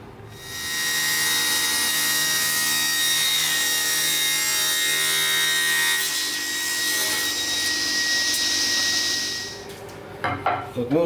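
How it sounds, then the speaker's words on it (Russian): A hand saw cuts the corner off a wooden end grain cutting board, steady rhythmic rasping strokes close by for about ten seconds, ending in a few clattering knocks. "И отпиливаем угол с одной стороны."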